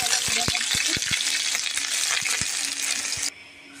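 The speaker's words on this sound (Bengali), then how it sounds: "কড়াটা গরম করে প্রথমে তেল দিয়ে নিয়েছি, আর তেলের ভেতরে একটু আদা রসুন পেস্ট দিয়ে দিয়েছি।" Ginger garlic paste fries in hot oil in a wok, a loud, dense sizzle broken by knocking stirring strokes, until it drops abruptly to a faint hiss near the end.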